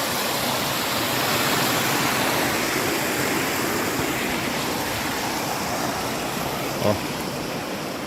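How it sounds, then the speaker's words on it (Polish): Water rushes and splashes continuously at close range, a steady broadband roar of a small waterfall in the English mountains with no voices. "fajny wodospadzik"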